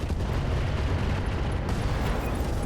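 LRM ammunition explosion in the video game RogueTech, a continuous heavy rumbling roar of blasts, loud and dense throughout with no pauses, no voices over it.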